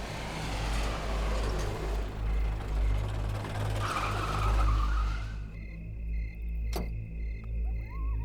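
A car's engine drones with a low steady rumble, then abruptly cuts out into near silence, followed by a faint click.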